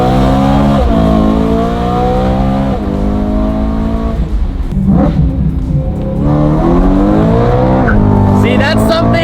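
A BMW M car engine revs hard while driving, with rising and falling loud exhaust notes and sharp crackling pops breaking through, all close and dominant, with people talking in the car.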